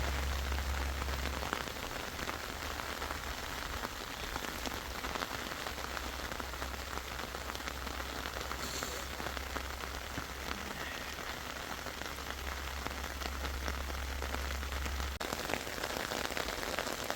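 Heavy rain falls steadily on surfaces during a volcanic orange harvest in an orchard, a dense continuous patter with close drops and low rumbling underneath, no voices heard.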